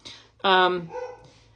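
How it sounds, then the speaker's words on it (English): A dog indoors gives a single sharp bark, close by and short, with a person's voice sounding around it. "So I apologize for the dogs barking."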